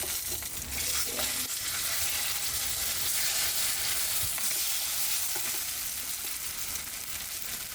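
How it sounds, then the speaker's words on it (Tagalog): Plant-based chicken pieces frying in a pan make a steady, loud sizzle that holds throughout with light stirring scrapes and no voices. "Pirituhin lang natin hanggang yung maprito siguro."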